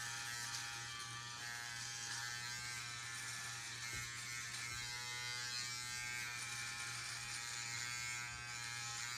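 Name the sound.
electric shaver trimming beard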